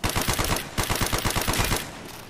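Automatic weapon fire in Call of Duty: Black Ops, with the MP40 submachine gun in play: a rapid, loud, steady burst of shots for about two seconds, then a brief ringing tail, no talking.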